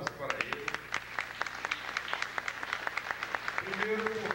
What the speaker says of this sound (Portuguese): eu queria pedir umas palmas para ele